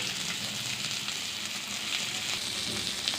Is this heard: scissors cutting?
no